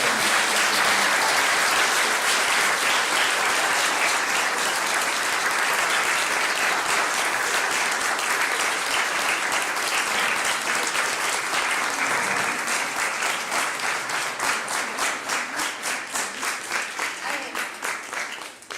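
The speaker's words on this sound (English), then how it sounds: "one more round of applause for the debaters" An audience at a debate event applauds the debaters, a long, full wash of clapping that gradually thins into more distinct, rhythmic claps toward the end.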